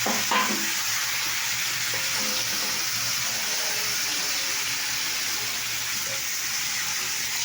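Green chillies go into a hot pan and fry with a loud, steady sizzle and hiss, with a brief rattle at the start as they drop in.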